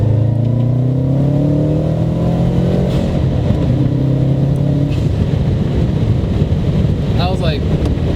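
Engine of a 2008 Subaru WRX narrow body pulls hard at three-quarter throttle, its rising tone climbing steadily under heavy wind rush. The roar is loud and continuous throughout.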